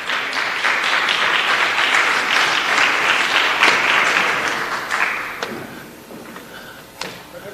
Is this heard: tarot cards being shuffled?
no